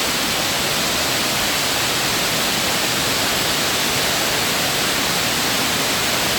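Indoor cascade waterfall at the Opryland Hotel, a loud, constant broadband rush of falling water that stays steady and unbroken, with no voices over it.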